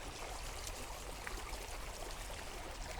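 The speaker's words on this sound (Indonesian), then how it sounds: "memang alirannya tidak terlalu deras, gemericik, menyejukkan, dan minim sampah" Gentle, clear river stream running through land in Sleman, Yogyakarta, a continuous soft babbling and trickling wash, steady and fairly quiet with no voices.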